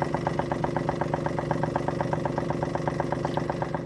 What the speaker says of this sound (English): Sounds like a Model T.